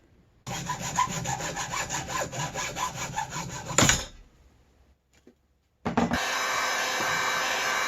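A hand saw cuts through PVC pipe with rapid rhythmic back-and-forth rasping strokes, followed by a clunk, a quiet pause, then a steady hiss.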